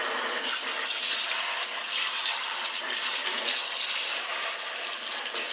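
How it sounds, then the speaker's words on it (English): Steady running water from a tap pours over a cold press juicer as it is rinsed, a continuous close hiss and splash with no talking. "Rinse the outside."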